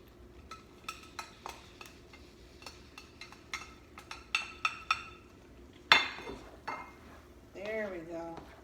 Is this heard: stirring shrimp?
yes